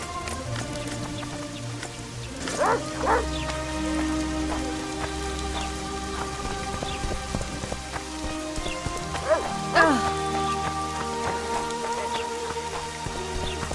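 Steady rain falls across an outdoor scene in the video game The Witcher 2, a constant even patter with a few brief louder thuds that might be hooves, and no talk over it.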